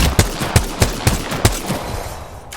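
Rapid bursts of gunfire in Apex Legends target practice, about six sharp evenly spaced shots in quick succession, loud and close, then tailing off.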